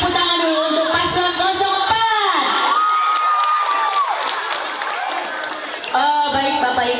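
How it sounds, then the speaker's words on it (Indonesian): Students cheer and shout loudly for candidate pair 04 at a school student council debate, with excited whoops and voices filling a noisy crowd and clapping mixed in. "Kasih tepuk tangan dulu untuk paslon"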